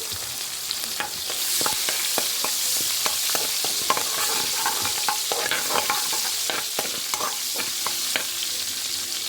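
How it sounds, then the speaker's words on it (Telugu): Green chillies frying in oil in a kadai, giving a steady crackling sizzle with scattered sharp pops and spatters and occasional stirring scrapes, close and continuous without any talk. "ఇప్పుడు ఇవి పచ్చిమిరపకాయలు ఉన్నాయి కదా, అవి వేసేసుకోవాలి. బాండీలో నూనె ఉంది కదా, ఆ నూనెలోనే వేసేసుకున్నాం ఫ్రెండ్స్."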